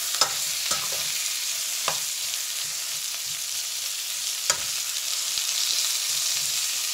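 Meat and caramelizing onions are stirred in a frying pan, a constant hiss of frying with occasional sharp scrapes and taps of the spoon against the pan, close by and without talk.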